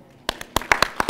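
Scattered hand claps from an audience at a lightning talk event, a handful of sharp individual claps starting after a brief pause, close and irregular, with no steady applause building.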